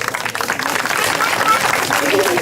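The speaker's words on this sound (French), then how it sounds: "On va applaudir." Audience applause at a medieval festival magic show, a steady wash of many hands clapping that holds through the whole stretch, with a voice speaking over the crowd at moments.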